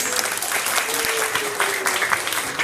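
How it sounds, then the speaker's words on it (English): An audience at a classroom-style session breaks into steady, close applause that fills the whole stretch without a pause. "Give him a big round of applause."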